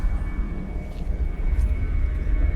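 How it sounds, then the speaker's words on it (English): An airplane takes off overhead near Boston's airport by the coast, a deep continuous engine roar rumbling low and steady throughout. "There's a plane just taking off over our head."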